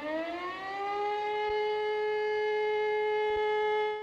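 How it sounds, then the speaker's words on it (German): A civil defense warning siren rises in pitch and then holds a steady loud wail, heard alone with no voices. "Wenn man die Sirene hört, sollte man sich an folgende simple Regeln halten."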